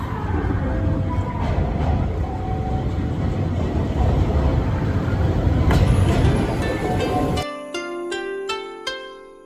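A train arrives at a station near Sapporo, rumbling in loudly with a steady low roar, then brakes and slows, leaving high metallic squeals and clanks as it comes to a stop.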